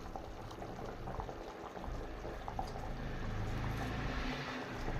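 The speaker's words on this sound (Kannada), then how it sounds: "ನಮ್ಮ ಬಿರಿಯಾನಿ ಕುದೀತಾ ಇದೆ." Chicken biryani water, with lemon juice squeezed in, boils in a pot with a continuous close bubbling and roiling that stays even in level from start to finish.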